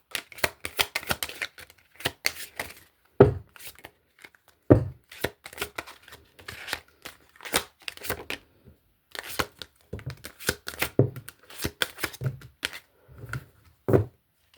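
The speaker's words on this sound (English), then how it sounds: "These cards are not very shuffle friendly" A deck of budget game cards being shuffled, with quick runs of riffling flutters and sharp snaps broken by brief pauses, close and fairly quiet, and no talking.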